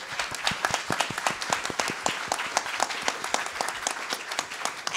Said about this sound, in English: take another moment to do an amazing applause for the leader of our movement